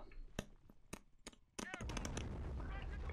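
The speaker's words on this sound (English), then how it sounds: "It's the battle of the mortars." Mortar blasts and bursts of gunfire from a Company of Heroes World War II battle at Carentan, several sharp separate shots giving way to a dense, continuous roar of combat, with a voice talking over parts of it.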